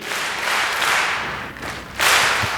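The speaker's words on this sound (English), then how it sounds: "I want you to clap 3 times, stomp twice, and clap once on 3." A keynote conference audience claps together in a rhythmic call-and-response pattern: dense, close clapping that dips briefly in the middle and then surges into a louder burst.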